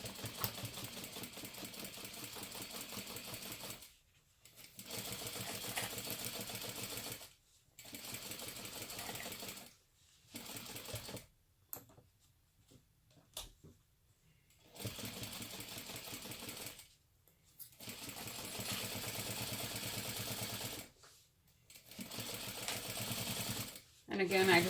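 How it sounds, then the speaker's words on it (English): A sewing machine basting lining and main fabric panels of a small cosmetic bag together, running in repeated bursts of rapid mechanical stitching separated by short pauses, close and clear with faint talk in the gaps. "just go all the way around to baste the lining and main panels together"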